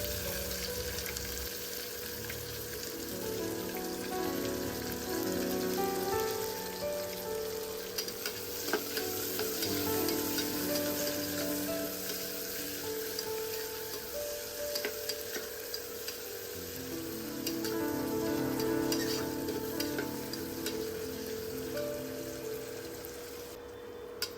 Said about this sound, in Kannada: ನೆಕ್ಸ್ಟ್ ಈರುಳ್ಳಿ ಹಾಕ್ಕೊತಾ ಇದ್ದೀನಿ. ಈರುಳ್ಳಿ ಸಾಫ್ಟ್ ಆಗೋ ತನಕ ಬೇಯಿಸ್ಕೋಬೇಕು.